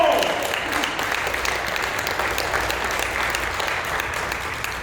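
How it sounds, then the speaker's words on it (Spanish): Congregation applauding during a Spanish-language church service, a steady wash of clapping filling the room from the start and holding for several seconds without letting up. "Hoy me dan un aplauso al Señor"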